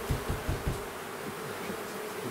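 Honeybees buzz around an opened hive, a close, dense hum with a few stronger pulses at the start before settling into a steady drone.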